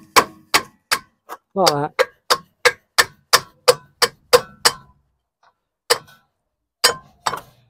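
A tool taps at the rear brake drum of a Volvo V70 with a quick run of evenly spaced, sharp metallic knocks. A short voice breaks in early, and a few slower taps follow a brief pause.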